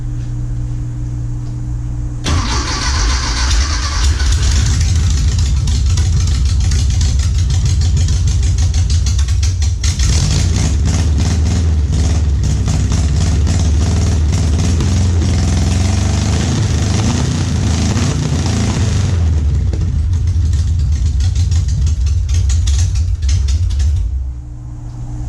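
A junkyard Porsche 914 engine catches after a brief pause and runs loudly and steadily for over twenty seconds with a rough, buzzing idle, then cuts off near the end.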